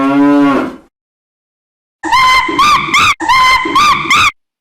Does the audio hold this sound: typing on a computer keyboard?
no